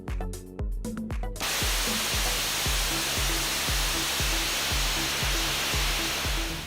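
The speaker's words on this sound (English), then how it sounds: "conducted a final hot-fire test in Promontory, Utah, of the abort motor built for the Launch Abort System on NASA's Orion spacecraft" Hot-fire test of the abort motor for the Orion spacecraft's Launch Abort System in Promontory, Utah: after a short musical opening, a sudden, loud, sustained rushing roar takes over, with rhythmic musical pulses continuing beneath it.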